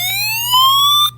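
A NOAA weather alert alarm from an iRonsnow solar hand-crank emergency radio sounds as a loud, steady electronic tone that rises slightly in pitch over about a second, then cuts off abruptly, with a faint low hum underneath.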